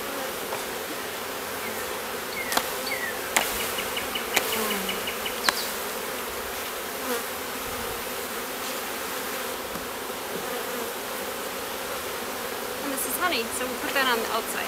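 A steady, dense hum of many honeybees buzzing close by at an open hive, with occasional clicks and knocks from handling over the continuous drone.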